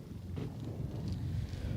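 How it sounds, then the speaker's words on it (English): Low rumbling wind buffeting a microphone outdoors at a high school graduation, steady and close throughout with no voices. "Woo, it's windy."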